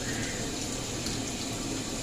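Water rushing steadily from a hose or tap into the tub of a Kuppet portable washing machine, a continuous close, even hiss without pauses or voices.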